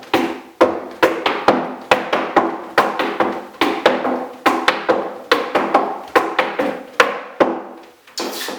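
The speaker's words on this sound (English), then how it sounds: "adding a brush where the ball of the foot strikes the floor on the way down" Clogging walking step with heels and toe brushes on a hard floor: loud, close, sharp percussive strikes in a steady rapid rhythm, each hit followed by a short brushing decay, with no talk.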